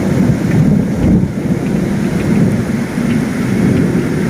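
Heavy rain pours at the Digha seaside with a dense, loud, constant roar and deep low rumbling of thunder or wind.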